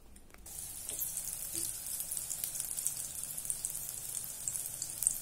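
Banana flower balls fry in hot oil, giving a steady, moderate sizzle with fine crackling that holds evenly throughout.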